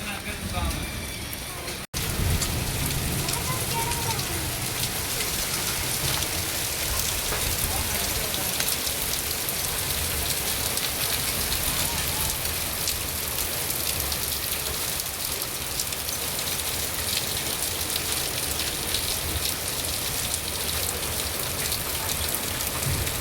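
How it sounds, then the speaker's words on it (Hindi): Heavy rain and hail pour steadily during a thunderstorm in a village, a dense continuous hiss close by, broken by one sharp loud crack near the start, with faint voices underneath. "बारिश की बूंदे और ओले पड़ रहे हैं"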